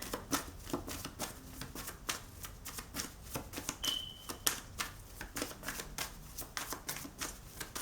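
Tarot cards are shuffled close up in a continuous run of soft, rapid riffling snaps and slaps, an uneven rhythm lasting throughout with no speech.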